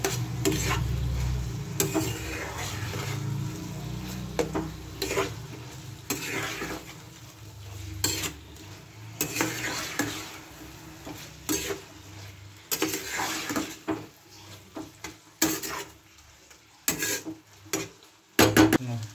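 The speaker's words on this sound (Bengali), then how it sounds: "মাছগুলো দিয়ে দিলাম, দিয়ে ভালো করে নেড়ে নিচ্ছি।" Prawns stirred in a pan for chilli prawn, an utensil scraping and rubbing against the pan in irregular strokes with a faint sizzle, close and fairly quiet.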